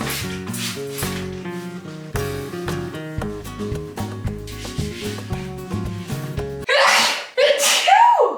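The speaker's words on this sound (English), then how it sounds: "I always sneeze when I clean." Two loud, close sneezes burst out one after another at the end, right after background music stops, while a walk-in closet is being deep-cleaned.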